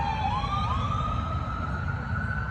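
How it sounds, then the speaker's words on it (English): An ambulance siren wails loud and sustained beside a highway, its pitch sliding upward and holding steady as it passes close by, under a constant roar of traffic. "It's an ambulance."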